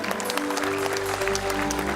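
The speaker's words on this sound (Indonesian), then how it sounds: "oke, tepuk tangan dulu untuk Ewen dan Reynolds" A studio audience on an Indonesian television comedy show applauds in a brief burst of dense clapping, with a sustained low musical tone underneath.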